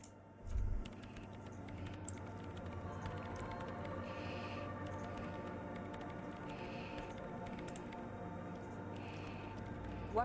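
Keyboard typing in the video game Disco Elysium, a steady patter of soft key clicks running throughout over a low ambient hum, moderately faint.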